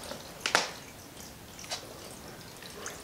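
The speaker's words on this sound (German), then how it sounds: "Ich drücke das unter Wasser." A bicycle inner tube is pushed down into water during a puncture repair, giving a couple of short, soft wet squishes and splashes against a quiet background.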